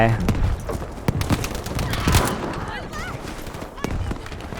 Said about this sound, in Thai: เล็กระเบิดกันใหญ่